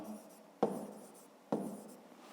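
A pen or pencil writes numbers by hand on paper in short scratchy strokes, two distinct taps and scribbles close by, with no voice over them.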